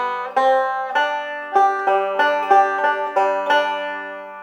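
A banjo picks a roll just after the phrase of When the Saints Go Marching In, a rhythmic run of about ten plucked notes in steady succession, bright and ringing, close up and alone.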